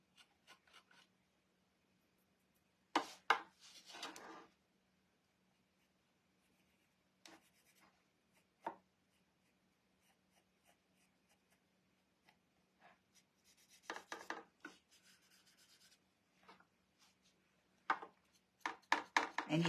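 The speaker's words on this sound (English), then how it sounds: "I put it on with one finger and then I just rub back over it." Fingertip rubbing finish into a thrifted swivel frame, heard as scattered soft scratchy strokes in short bursts with quiet gaps, close and faint, no talking.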